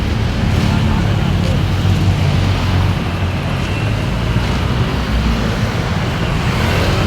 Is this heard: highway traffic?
yes